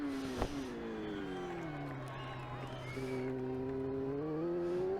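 A motorcycle engine revs in the TT Isle of Man 3 racing game on the St Johns course: a loud, steady harmonic drone whose pitch holds and then climbs toward the end, with no pause throughout.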